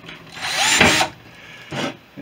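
A 3.2 mm (1/8 inch) drill boring rivet holes in metal while replacing side windows on a Sherwood Kub, two short, loud whirring bursts close by, the first longer, separated by a brief quieter gap.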